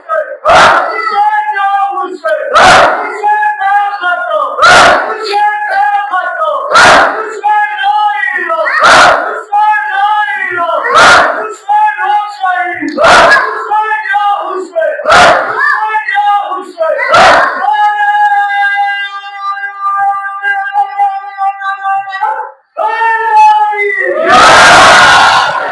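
At a Shia religious mourning gathering, a large crowd repeatedly roars a slogan in unison, loud call-and-response bursts every couple of seconds between a cleric's chanted lines, ending in one final massive shout.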